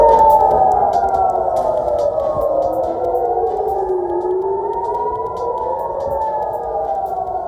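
An air raid siren wails loudly in Jerusalem, its tone rising and falling in slow overlapping sweeps that carry on steadily throughout.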